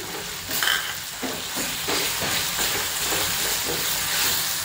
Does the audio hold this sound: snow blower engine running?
no